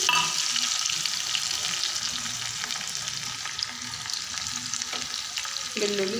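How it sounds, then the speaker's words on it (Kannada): Garlic dropped into hot oil with spluttering mustard seeds frying over low flame, a steady close sizzle and crackle with stirring and a few louder pops, no talking. "ಅದು ಸಿಡಿದ ನಂತರ ಅದಕ್ಕೆ ನಾನು ಬೆಳ್ಳುಳ್ಳಿ ಹಾಕ್ತೀನಿ."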